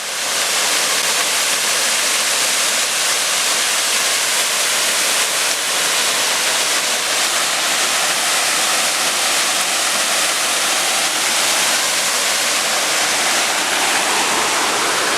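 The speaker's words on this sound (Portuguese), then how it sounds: "Essa água aqui é que vai para aquela cachoeira ali de quase 50 metros" Waterfall and pool in Tamarana, Paraná, with water flowing on toward a fall of almost 50 metres: a loud, steady broadband roar of rushing water, continuous and close, with no voices.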